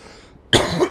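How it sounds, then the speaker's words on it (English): A single sharp, loud cough bursts out close to the microphone after a moment of quiet. "this cough is still kicking my behind"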